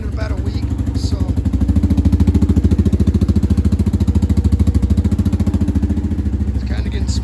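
A four-wheeler ATV engine runs after a cold start, putting out a loud, steady, rapid chugging idle that stays close throughout, with a person's voice faintly over it.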